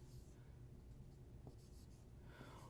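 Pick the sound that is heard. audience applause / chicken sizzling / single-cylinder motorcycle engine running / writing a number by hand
writing a number by hand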